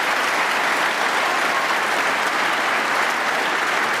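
A packed Barbican snooker crowd applauds the players at the UK Championship semi-final, a dense, steady wash of clapping that holds at full volume throughout.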